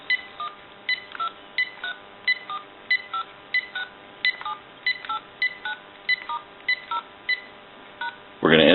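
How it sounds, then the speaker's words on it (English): A rapid series of cordless phone DTMF keypad tones from a GE 3-handset 6.0 cordless telephone, about sixteen evenly spaced beeps, followed by a brief burst of louder noise at the very end. "We'll dial out with this unit."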